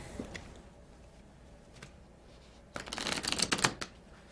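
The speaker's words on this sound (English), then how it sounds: "I'm not very good at shuffling." A deck of tabletop game cards being shuffled: faint scattered clicks at first, then a dense burst of riffling flutters near the end, with no talking.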